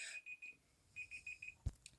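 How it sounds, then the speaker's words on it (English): A timer alarm goes off indoors, sounding a series of short, evenly spaced electronic beeps in two bursts, followed by a brief thump, with no talk. "I'm so sorry, a timer went off, and I don't know why"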